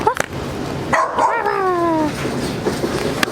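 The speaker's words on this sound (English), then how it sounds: "look at the little doggy" A small dog yips and barks a few times, fairly close, with short sharp calls and a brief whimpering stretch, while people chat nearby on a street in Laos.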